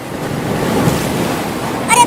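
Floodwater rushes into a village house, a loud, steady broadband roar of moving water with no voices, swelling slightly at the end.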